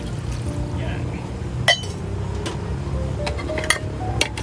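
Half a glass of water is poured into a pot of pinakbet at a riverside campsite, making a steady splashing pour under a person talking, with a couple of light clinks from the pot.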